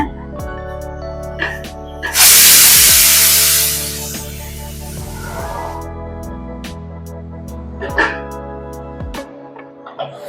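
Cut okra pieces added to hot oil in a pan for a Tamil okra and black-eyed pea curry, giving a loud burst of sizzling spatter that settles into a steady fry under background music.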